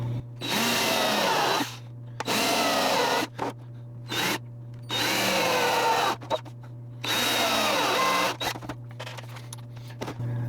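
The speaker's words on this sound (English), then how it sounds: "I'm going to go ahead and go at it with the drill." A power drill reams holes in a Lexan plastic body part, whirring in repeated bursts of a couple of seconds each, close by, with a steady low hum and short pauses between runs.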